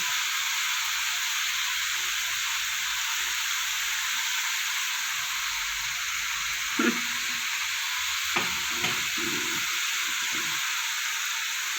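Cabbage frying in a pan for a vegetarian dish, a steady broad hiss of sizzling oil with a few brief stirring knocks near the end, no talking.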